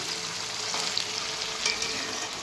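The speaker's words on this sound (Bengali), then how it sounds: "এখন এই যে চিকেন কষা বানাচ্ছি, আর আজকে একটু টক দই দিয়েছি।" Chicken kosha cooked with sour yogurt sizzles steadily in a pan, a dense close frying hiss with faint stirring clicks and no voices.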